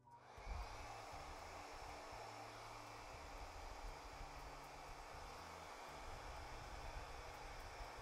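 A hair dryer fitted with a diffuser blows onto men's hair, a steady close roar of airflow with a motor hum that switches on at the start and runs unbroken, with no talk.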